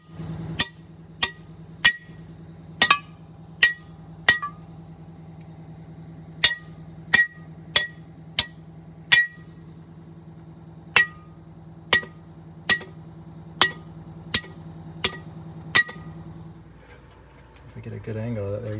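Sharp metallic hammer strikes from a small sledgehammer driving old wheel studs out of a wheel hub, about sixteen loud evenly spaced blows over a steady low hum, then a brief rumble at the end.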